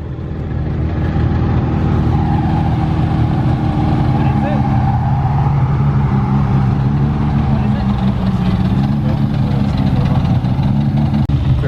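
Turbocharged Toyota MR2 engine idling at an outdoor MR2 car meet, a steady loud low rumble running throughout with people talking over it.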